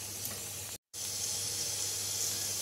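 A steady broadband sizzle from a dosa frying on a hot pan, with one brief cut to silence.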